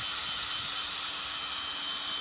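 Close, steady whir of a power drill cranking a big blue motorcycle lift holding a Goldwing upward under heavy torque, one unbroken loud drone with a high whine.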